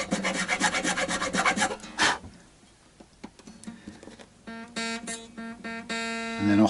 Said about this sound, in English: I'm going to start working with this file